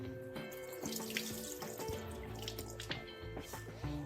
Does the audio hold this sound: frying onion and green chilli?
no